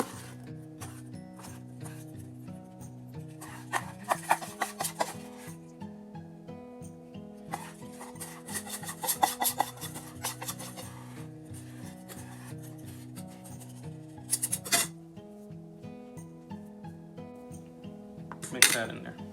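Sourdough being mixed into cookie dough in a bowl, with steady rubbing and scraping of a utensil against the bowl, close and moderately loud, beneath continuous background music with a few sharper clinks.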